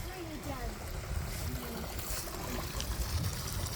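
Water spills steadily down a small waterfall at a pond, a continuous close rushing trickle with a voice talking intermittently over it.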